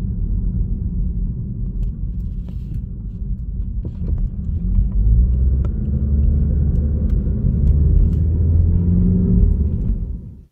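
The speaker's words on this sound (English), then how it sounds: "The revs will go up to about 2200, and then you're going to see a dip" Mazda car engine with its torque converter clutch unlocking: a steady low rumble that rises as revs climb, then eases slightly, heard alone and fairly loud.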